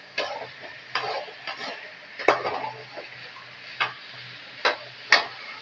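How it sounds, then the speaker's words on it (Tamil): Beans and carrot stir-fry being stirred in a pan, a series of sharp spoon scrapes and clanks against the metal at uneven intervals over a faint sizzle; no voices. "நல்லா கிண்டி விட்டுக்கலாம்"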